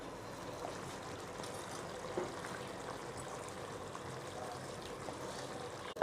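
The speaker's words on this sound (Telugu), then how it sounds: "వాటర్ వేసేసుకుందామా?" Hot water pours into goat head curry in a cooker, a faint, steady trickle that runs for about six seconds before a sharp knock at the very end.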